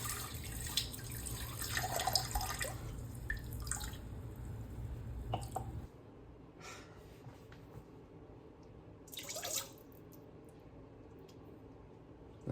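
A cup of water poured into cake mix with an egg and vegetable oil while baking; a splashy pour and drips run for about six seconds, then quieter kitchen noise with a brief clatter follows.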